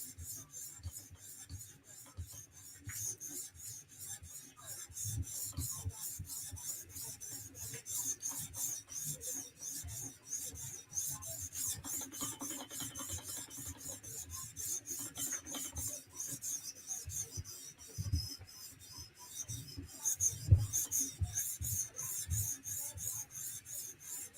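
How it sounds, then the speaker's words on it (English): A custom knife bevel is hand-polished toward a mirror finish, producing steady, quiet rasping strokes in a continuous back-and-forth rhythm, close and fairly soft, with no talking. "Light-handed on the polishing. You want to keep the bevel nice and flat."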